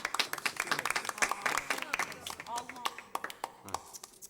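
Scattered hand clapping from a few people, uneven and close, with voices talking over it.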